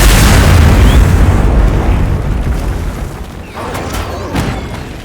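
A bomb detonates in Monster Hunter Wilds, a loud low boom opening the clip and rumbling off over several seconds, with a smaller thud near the end.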